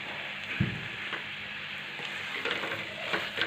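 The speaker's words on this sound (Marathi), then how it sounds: "मिडियम गॅसवरती एक एकसारखं हलवत मस्त असं परतून घेतलेलं आहे" A coconut and jaggery modak filling is stirred and sautéed in a pan over medium heat, giving a steady soft sizzle with occasional scraping and stirring knocks throughout.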